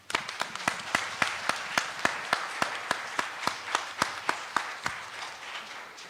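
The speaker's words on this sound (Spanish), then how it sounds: "se merecen un muy caluroso y sentido aplauso" An audience at an academic colloquium panel on nearshoring claps steadily and warmly for the panelists, a dense close patter of many hands with sharp individual claps standing out throughout.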